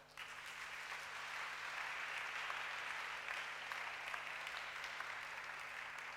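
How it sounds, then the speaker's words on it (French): A church congregation applauds during a Sunday worship service, a dense, sustained wash of many hands clapping at once, steady and fairly distant, with no break over several seconds. "Acclamons-le."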